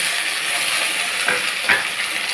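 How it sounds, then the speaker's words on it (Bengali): Sliced onions dropped into hot cooking oil, frying with a steady, close sizzle that stays bright and even, with a couple of brief splattering pops and no speech. "এই পেঁয়াজটা এবার তেলের মধ্যে আমি দিয়ে দেব"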